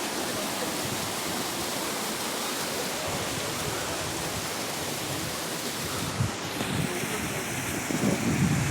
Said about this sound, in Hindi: ये लकड़ी का पुल, यहाँ से ये झरना बहता हुआ आ रहा है।